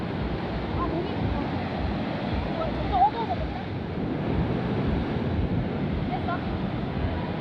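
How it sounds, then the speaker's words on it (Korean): Ocean waves roll in and wash up on a beach in Bali, a steady broadband surf wash with wind buffeting the microphone throughout, continuous and fairly close. "저 파도 딱 들어올 때딱 찍어볼게"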